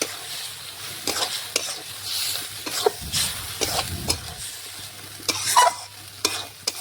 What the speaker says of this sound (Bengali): মটনটা দিয়ে ভালোভাবে নাড়াচাড়া করে মশলার সাথে দেখুন মটনটাও কষিয়ে নিচ্ছি।